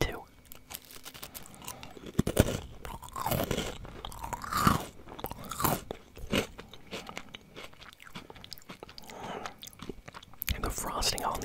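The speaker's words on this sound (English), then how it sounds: "Kind of crunchy too." Crunchy frosted Christmas cookies chewed right at the mic, with dense, crackly crunches and chewing that continue steadily, with soft mouth noises between bites.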